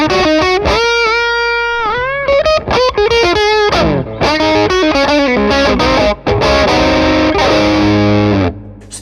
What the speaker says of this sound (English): Let's push the gain up a little bit now to get a couple of saturated blues tones.